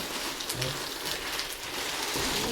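Steady rain falls throughout, a dense, even hiss of drops drumming on surfaces, close and continuous with no voices.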